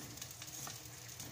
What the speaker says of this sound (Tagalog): igigisa na natin yung sibuyas